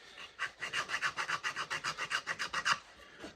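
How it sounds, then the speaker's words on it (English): Rapid back-and-forth strokes of sandpaper on the back face of a wooden guitar neck dovetail, about sixteen even, close rasping passes in a quick steady rhythm, then stopping. "I'll just do that with some sanding."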